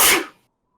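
A single sharp sneeze, close and loud, bursts out at once and trails off within a fraction of a second into silence.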